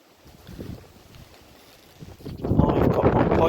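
Gusts of wind buffet the microphone on a farm on a bleak spring day, quiet at first and then roaring louder over the last second.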